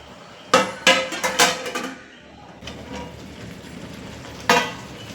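Pot of gongura pulao being handled as its lid goes on, with a quick run of sharp metallic clanks, a quieter stretch, then one more clank near the end.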